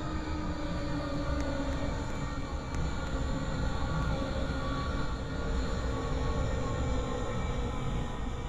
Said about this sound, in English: The train now approaching platform 5 is the 1627 regional service to Newhurst,